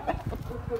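An Aseel rooster clucks and grunts close by in short bursts on a farm, with other birds faintly in the background.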